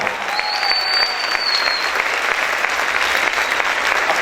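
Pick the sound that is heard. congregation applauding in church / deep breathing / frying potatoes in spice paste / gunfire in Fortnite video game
congregation applauding in church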